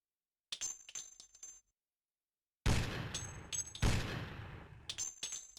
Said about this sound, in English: now we gotta finish him off with machine guns and sad little missiles